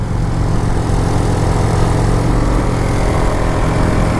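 A Kawasaki Vulcan 900 motorcycle engine runs loud and close with a steady, even rumble that holds for the whole stretch, and no one speaks.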